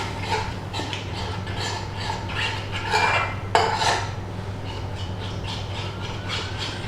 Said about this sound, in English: So give it all a good mix.